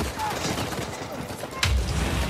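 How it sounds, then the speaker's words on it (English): Gunfire in the video game Uncharted 4 during a private multiplayer match on a Scotland map: a dense, rattling volley with a sharper, louder burst near the end, set against steady in-game background noise. "MJ, why are you shooting me"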